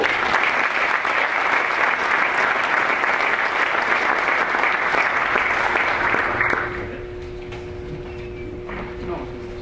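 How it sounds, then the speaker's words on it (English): At a golf association summer meeting, a room full of people claps loudly and steadily for several seconds, then the applause fades to a few scattered claps and faint murmuring. "One more time, a round of applause for this year's EasyGo Summer Meeting Program."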